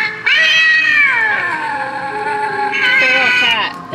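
An animated Halloween cat decoration gives two long, loud, electronic-sounding meows, the first stretched out and falling, the second shorter, close up and mostly alone.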